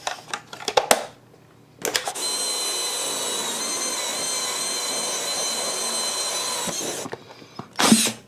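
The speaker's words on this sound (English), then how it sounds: "I'm going to use a Forstner bit and drill it to 5/8 so that the 5/8 hose can go in there" Power drill boring a 5/8-inch hole with a Forstner bit for a hose fitting on a homemade combustion chamber: one steady, loud high whine lasting about five seconds, framed by brief clatter before and after.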